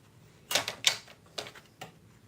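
Paper card being cut for an angled gatefold card, a few sharp crisp snips and slices spread unevenly over two seconds, close and fairly quiet, with no talking.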